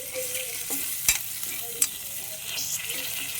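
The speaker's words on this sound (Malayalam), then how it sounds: "കറിവേപ്പിലയൊക്കെ ചേർത്ത് നന്നായിട്ട് നമ്മുടെ സവാള ഒന്ന് വഴറ്റിയെടുക്കും" Onion sautés with curry leaves in a pan while preparing chicken parts, a steady hiss of frying punctuated by a few sharp spatula scrapes and taps against the pan, with no talking.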